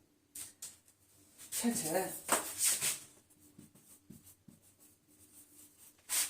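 Marker or pen strokes on a board as a Class 9 physics formula is written out by hand, soft scratchy bursts in short runs, with a teacher talking in between.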